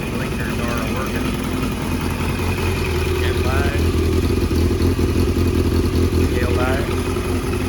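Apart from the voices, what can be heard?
Yamaha Tenere 700 motorcycle engine running with exhaust leak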